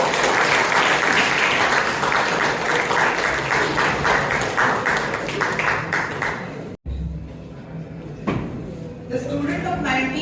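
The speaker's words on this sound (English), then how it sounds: "Give a round of applause to CA Ganpat Kapdi." A round of applause from an audience at a school event, steady and loud for several seconds, then cut short and followed by a speaking voice.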